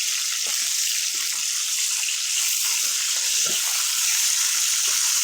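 A rohu fish head fries in hot oil with a steady, loud, hissing sizzle that never lets up, broken only by a few soft knocks from the pan or utensil.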